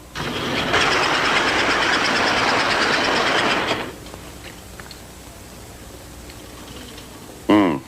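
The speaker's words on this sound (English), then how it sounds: "Even our toy trains like this American Flyer go about that fast." An American Flyer toy train runs with a steady, fairly loud rushing whir for about three seconds before dropping to a quiet hum, followed by a brief sharp whistle-like tone near the end.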